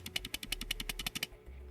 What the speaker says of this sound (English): So here is what the spacebar sounds like with the microphone being roughly an inch away.